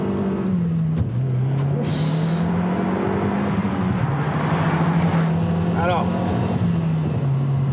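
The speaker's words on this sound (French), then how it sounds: "on va faire un 0-100 km/h avec la Mazda Speed 3, une voiture qui développe 263 chevaux" A 2007 Mazdaspeed3 with 263 horsepower pulls hard from a standstill toward 100 km/h, its engine note rising steadily, dipping briefly at a gear change and climbing again, loud and close, while a voice speaks briefly over it.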